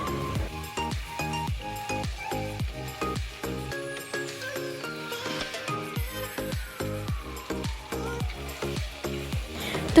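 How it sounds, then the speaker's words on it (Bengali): Chilli paneer is stirred and fried in a pan, with a spoon knocking against the pan in quick repeated strokes over a soft sizzle and some background music, fairly quiet and close. "এবারে খুব ভালোভাবে মিশিয়ে নেব।"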